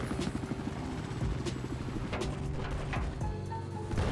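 A helicopter in the video game Battlefield 4 thrums steadily with a rhythmic rotor pulse under scattered gunfire and explosion impacts, close and fairly loud.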